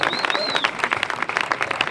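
An audience at the Rip Curl Costa de la Luz 2011 surf contest awards in Mazagón claps steadily, with a whistle over the crowd and voices under the applause.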